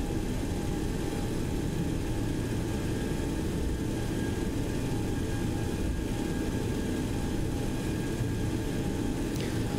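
A FlyJsim 727 jet taxiing after landing at LaGuardia in a flight simulator, with a constant loud engine rumble and whine holding steady throughout, with no voices.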